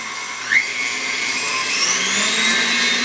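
An electric mixer whirs steadily through pound cake batter flavored with vanilla, a close, constant motorized whine with a brief bump near the start and no talking.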